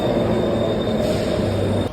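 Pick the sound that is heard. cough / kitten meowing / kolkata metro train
kolkata metro train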